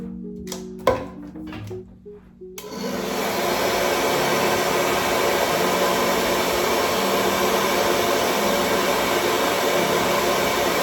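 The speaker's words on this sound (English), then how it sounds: "I'm gonna use the hairdryer at the same time." A few soft clicks and taps, then a hair dryer switches on during an at-home lash lift and blows with a steady, loud whooshing hum that continues to the end.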